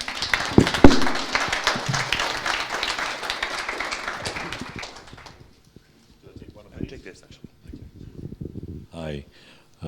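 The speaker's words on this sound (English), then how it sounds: "Applause." An audience applauds to welcome a speaker at an arts festivals summit in Yerevan, with dense clapping that fades out over several seconds before a few scattered claps and then a voice.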